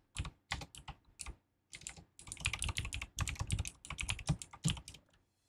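Fast, uneven typing on a computer keyboard during a nightly live coding session, with bursts of close, crisp key clicks broken by short pauses.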